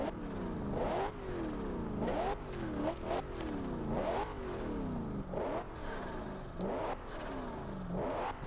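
Twin-turbo engine of a 2015 Dodge Charger R/T in Forza Horizon 2, revving hard in repeated rising sweeps that drop back, about eight pulls in steady succession, loud and close with no talk.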